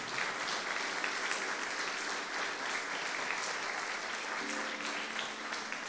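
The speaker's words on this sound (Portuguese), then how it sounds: "Aplauda o Senhor e glorifique o seu nome." A church congregation claps in worship during a Portuguese-language prayer service, fairly quiet sustained applause with a steady wash of hands and faint voices underneath.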